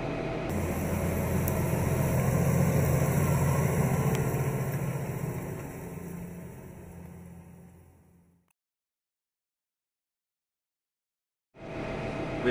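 A Deutz-Fahr 6 Series tractor engine runs steadily, a moderate, continuous hum that fades out into silence, then returns briefly at the end.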